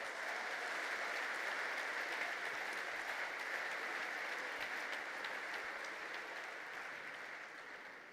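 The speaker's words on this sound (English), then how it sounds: "A big applause to all our leaders who are gathering here today." Sustained audience applause at the PES Congress, a steady dense wash of many hands clapping in a large hall that fades slightly toward the end, with no voices over it.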